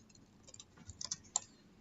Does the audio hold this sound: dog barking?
no